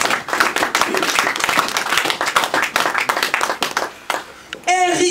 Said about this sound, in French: Acclame pour le Seigneur, s'il vous plaît.